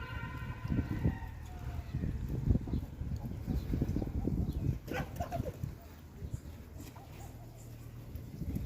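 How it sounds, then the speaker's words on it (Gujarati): Dozens of pigeons, domestic birds and a wild pair nesting in a box, coo in a Gujarati loft housed alongside roosters, a dense low murmuring chorus close by, with a faint higher tone early on. "જોઈ લ્યો કેટલા કબૂતર હે"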